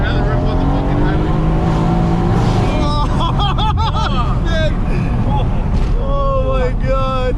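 A Mercedes C63 S accelerates hard on the highway, its engine roaring loud and close throughout with rising, shifting tones, while excited voices shout over it.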